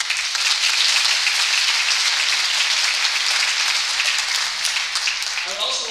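Steady audience applause at a college mini medical school event, a dense, even wash of many hands clapping that holds for several seconds, with a voice starting to come in faintly near the end.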